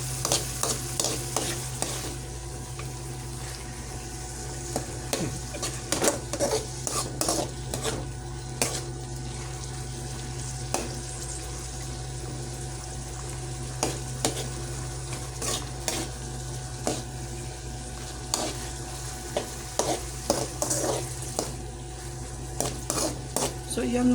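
Tuna sautés with garlic and onion in a pan, a constant sizzle under frequent sharp scraping and clinking of a utensil against the pan, with a low steady hum underneath throughout.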